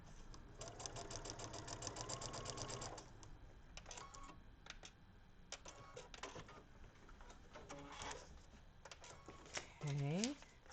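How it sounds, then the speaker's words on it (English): A sewing machine stitches through a paper-pieced quilt block in steady rapid runs, stopping and restarting, with a short whir near the end; quiet overall and close. "So I'm going to take this and sew it."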